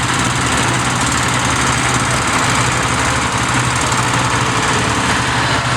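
Oliver tractor with mechanical front wheel drive running at an outdoor summer show, a loud, steady, close engine drone with constant rattling texture and no break.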